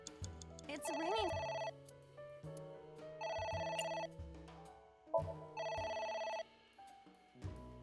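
A telephone ringing in the video game AI: The Somnium Files, three repeated electronic bell trills with pauses between, over game music and sound effects while a voice speaks.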